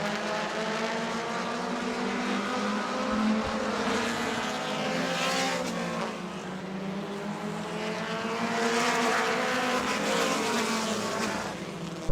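Sprint cars race around the Auburndale track at a Southern Sprint Car Shootout, their engines roaring and whining together. The pitch rises and falls as the pack passes, loud and continuous throughout.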